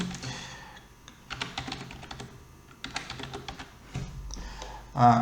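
Fingers type on a computer keyboard in irregular bursts of close, crisp key clicks separated by short pauses, ending with a louder thump.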